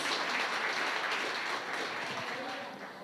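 Applause from a church congregation fills the space in a broad, steady wash of many hands clapping, fading slightly toward the end.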